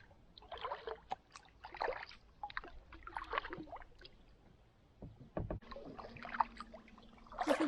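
Paddle strokes from a Pungo kayak on a river in upstate New York, a series of soft watery splashes and drips coming every second or so, close by, with a short knock partway through and more dripping afterward.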